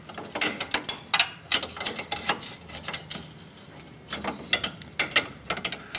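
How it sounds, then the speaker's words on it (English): An 18 millimeter wrench tightens a brake line fitting on a Toyota, giving rapid clicking ratchet-like metallic bursts in irregular clusters, close and fairly quiet. "take our 18 millimeter down here at the bottom, and we'll do all the tightening up"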